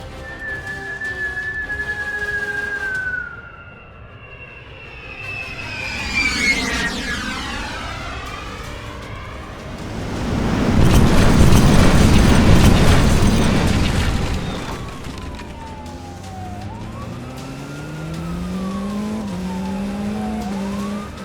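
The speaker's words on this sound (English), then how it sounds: "the Chinese Air Force began dropping bombs on Matsu" Bombs fall with long descending whistles and end in a heavy, roaring explosion that swells and rumbles for several seconds, then more falling whistles follow, with no voices.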